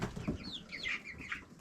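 Hens on a farm cluck softly in a short run of murmured calls, faint and close, with no talk.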